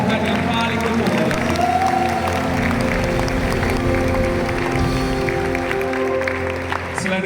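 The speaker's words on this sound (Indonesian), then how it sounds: "Beri tepukan kemuliaan bagi Tuhan." A church congregation gives sustained applause for God, a dense wash of many hands clapping that fills the room steadily, with voices and a crowd murmur mixed in.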